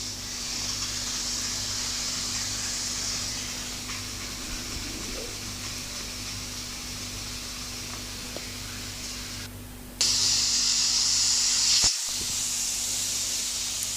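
Pressure cooker on full flame, cooking mixed vegetable sabzi, hissing steam steadily and loudly, with a sharper, brighter burst of whistling steam near the end.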